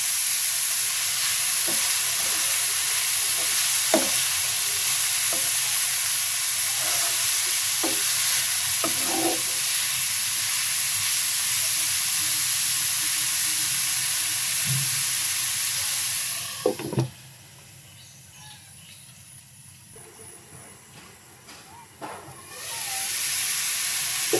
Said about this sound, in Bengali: এখন আমি কলার মোচা ঢেলে দিচ্ছি, সামান্য হলুদ গুঁড়া দিয়ে দিলাম